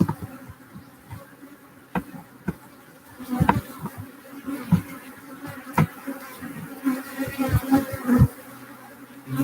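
Bees buzzing close by, their droning hum rising and falling as they fly around, with a few soft knocks in the background.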